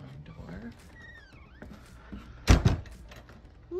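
A sliding barn door on a doublewide manufactured home thumps and rattles in one loud, close burst midway, under and between people talking.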